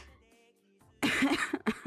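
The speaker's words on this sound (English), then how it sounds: "Oh shit, I'm gonna cough." A close, loud burst of harsh coughing, two or three hacks in a row, after a moment of quiet background music.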